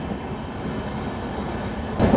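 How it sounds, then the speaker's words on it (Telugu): A train rumbles steadily at Cherlapalli railway station, a close, continuous low roar with faint rolling clatter, swelling slightly louder at the very end. "సో ఇది చర్లపల్లి రైల్వే స్టేషన్"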